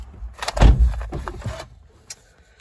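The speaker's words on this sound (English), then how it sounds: "I'll just close that door." Driver's door closing from inside a MINI Hatchback 2.0 John Cooper Works three-door, one solid thud with a short rattle and faint interior creaks fading afterward.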